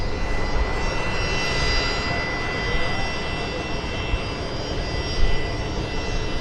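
WestJet jet airliner departing at Vancouver Airport in strong winds, a steady broad roar of jet engines with a faint whine, constant and fairly loud throughout.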